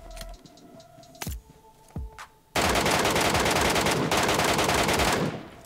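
Gunfire in the mobile battle-royale game PUBG Mobile, Metro Royale mode: a few sharp single shots, then a dense, loud sustained automatic burst lasting about three seconds before cutting off.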